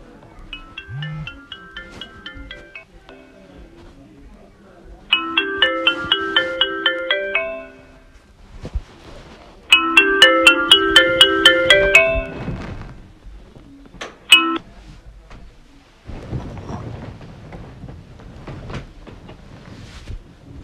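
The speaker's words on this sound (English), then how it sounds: "time to make a phone call" A phone call's ringback tone repeats in three separate bursts of electronic pulsing tones, loud and close, with quiet thumps and handling sounds in the gaps between them.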